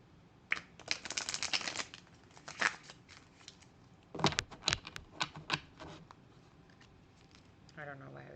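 A deck of tarot cards is shuffled on a knee in short riffling bursts with pauses between them, close and soft.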